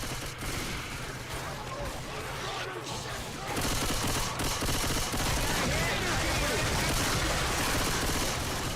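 Gunfire in a video game, probably Left 4 Dead 2: a dense, continuous fusillade of overlapping shots that grows louder partway through and keeps roaring steadily, with talk underneath.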